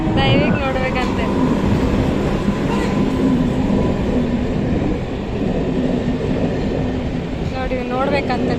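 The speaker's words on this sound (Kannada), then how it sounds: "ನೋಡಿ ನೋಡ್ಬೇಕಂತ ಟ್ರೈನ್" A regular train rolling past nearby with a loud, steady rumble and rattle of wagons throughout, while people talk over the noise.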